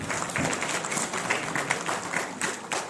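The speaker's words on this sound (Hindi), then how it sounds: "पूरी टीम के लिए जोरदार तालियां बजाइए" Audience applause for an organising team at an award ceremony in an auditorium in New Delhi, a steady wash of many hands clapping that fills the whole stretch with no speech over it.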